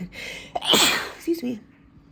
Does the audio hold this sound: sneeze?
yes